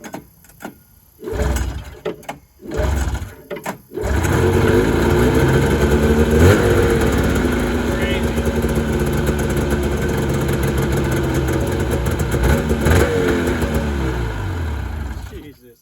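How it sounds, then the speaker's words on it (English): Vintage Yamaha Exciter snowmobile with a choke plunger stuck up, a few short cranking bursts, then the two-stroke engine catches and runs loudly with revving for about twelve seconds, close by, with a voice talking over it. "that thing starts so good because the choke plunger is stuck up"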